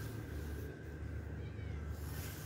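A cat meows in a single soft call over a steady, loud low hum that fills the background; no voices are heard.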